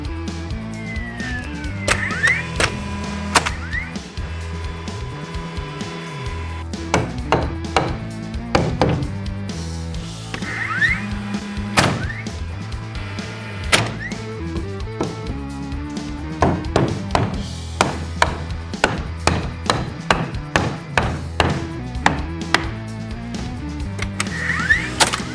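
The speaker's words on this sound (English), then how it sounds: "there's no problem sinking those nails" A DeWALT framing nailer drives nails into lumber, giving sharp, close thunks and taps at irregular intervals over about 25 seconds, with faint mechanical whirs between the strikes.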